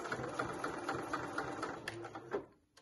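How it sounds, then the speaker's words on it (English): A sewing machine stitches back and forth across ribbon, a close, steady mechanical patter that slows and stops near the end. "I'm just going to stitch back and forth."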